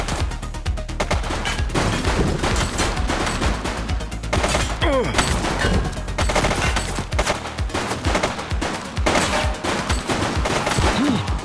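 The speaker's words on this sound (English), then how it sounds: "She's shooting!" Loud, near gunfire during a police chase in The Precinct: dense, rapid volleys of shots layered over sirens and shifting engine tones, running unbroken, with no talk.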